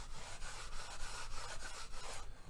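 An engine cylinder head rubbed against a flat block to flatten its edges, a steady, close, gritty scraping with a regular back-and-forth pulse in a basement workshop.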